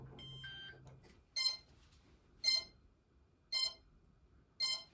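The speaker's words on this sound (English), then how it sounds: "After a few beeps" An ESP32 drone's ESC gives calibration beeps: four short, faint electronic beeps, evenly spaced about a second apart, after a few softer tones at the start.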